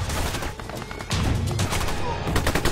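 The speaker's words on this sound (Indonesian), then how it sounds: "Mereka saling tembak di keramaian." Gunfire in a film's gang shootout in a crowded place: dense, loud bursts of rapid shots, with a thick barrage through the middle and steady crackling shots to the end, no talk.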